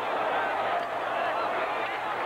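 Crowd in the stands at a Syracuse college football game, a steady, far-off roar of cheering that stays even throughout, with no single voice standing out.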